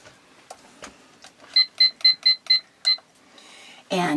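A kitchen timer is set for five minutes during brownie baking. Six quick, bright electronic beeps come close together, with soft handling clicks before them and a short burst of rustling noise at the end.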